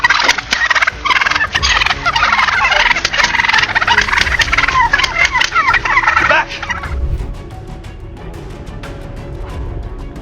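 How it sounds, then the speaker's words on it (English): A flock of wild turkeys gobbles loudly and repeatedly, calls overlapping in a dense chorus that abruptly drops to quieter, scattered gobbles. "an entire flock of wandering wild turkeys"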